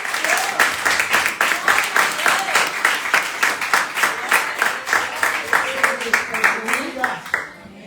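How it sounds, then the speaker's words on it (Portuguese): A church congregation at a deliverance service claps in a steady, rhythmic beat, loud and close, with a voice calling out over the hands and the clapping fading near the end. "Bendiga o Senhor com palmas bem abertas"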